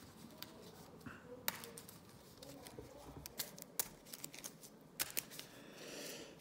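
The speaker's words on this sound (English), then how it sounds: "And I'm going to shuffle." Command cards for a solo board game being shuffled, heard as faint scattered card flicks, snaps and taps at close range. The sounds stay irregular throughout and no one speaks.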